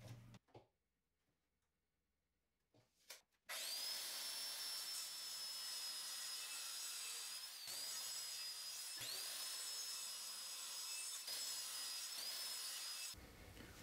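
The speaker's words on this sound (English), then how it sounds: "this board is a bit too wide to cut, so I'm using my circular saw" A circular saw cuts through a wooden board for a DIY birdhouse, its loud high whine running steadily for about ten seconds with brief dips as the blade works through the wood, after a few quiet handling knocks.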